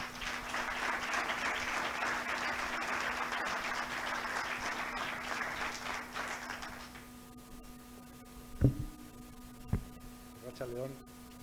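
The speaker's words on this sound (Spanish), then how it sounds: "Por favor, otro aplauso." An audience at an awards ceremony applauds steadily for several seconds before the clapping fades out, leaving a hum and a couple of faint knocks and thuds.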